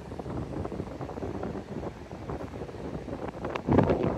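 Wind buffets a microphone outdoors on a mild day in Gran Canaria, a steady low rumbling roar throughout that swells into a heavier gust near the end.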